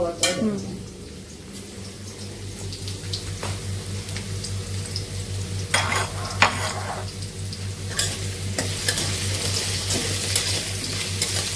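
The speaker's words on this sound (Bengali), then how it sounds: "একটু আলু ভেজে নিচ্ছি" Potatoes frying in a pan on a home kitchen stove, a steady close sizzle with occasional stirring scrapes and clinks over a low constant hum, no talking.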